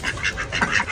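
A group of ducks quacks close by in rapid, overlapping bursts that run continuously without pause.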